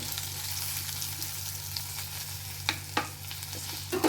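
Onions sautéing with spice powder for mutton curry, a soft continuous sizzle over a low hum, with a few distinct spoon scrapes near the end, close and fairly quiet, no voices.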